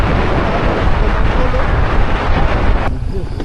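Strong gusting wind buffets an outdoor microphone in a loud, steady roar, with the rumble easing slightly near the end; no clear voices.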